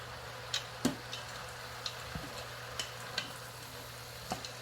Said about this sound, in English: I'm going to mix that up. I've still got my Instant Pot on the saute function.